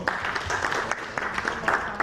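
Applause from attendees at a speech about delivering sporting gold, a moderate spread of clapping with scattered sharper individual claps, fairly close, with a hint of murmuring voices underneath.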